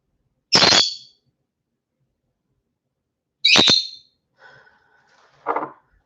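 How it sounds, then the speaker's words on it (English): A noisy bird gives two loud, sharp squawking calls about three seconds apart, followed by a softer, lower chattering call at the end, with silence between. "oh, it's noisy bird"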